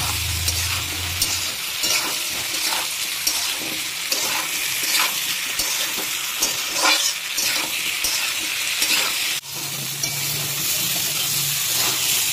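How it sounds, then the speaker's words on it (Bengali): Moringa flowers fry with turmeric and salt in a pan, a loud, steady sizzle running throughout with intermittent scraping and stirring clicks. "এটাকে ভালো মতো এবারে ভেজে দিতে হবে আরও প্রায় 5 মিনিট পর্যন্ত।"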